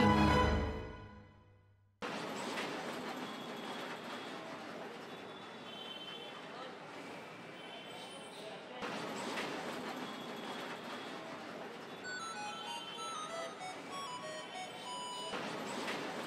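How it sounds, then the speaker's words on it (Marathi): A train pulling out from a station, a steady rumbling rail roar with faint clatter and tonal whine running continuously after a brief fading sound at the start, moderately loud and close. "आत्ताच निघाली गाडी"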